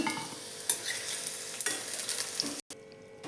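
Brinjal pieces fry on a low flame in a pan, giving a steady close sizzle with occasional stirring clicks, briefly cutting out near the end before resuming, with no speech.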